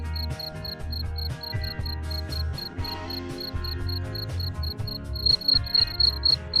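Crickets on a cricket farm chirp in dense, rapid rhythmic pulses, loud and close, with several insects overlapping continuously throughout.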